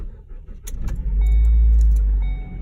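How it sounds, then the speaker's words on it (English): Car with a previously dead battery starting after a jump start: a brief cranking clatter, then the engine catches and settles into a loud, close, steady low hum. "you can try to start the car with the dead battery"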